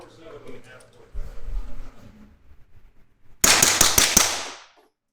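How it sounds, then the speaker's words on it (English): A suppressed gun fires about five quick shots in a rapid string, sharp and close, after quiet speech and some rustling. "I'm just gonna shoot this as fast as I can, see what we can get for gas"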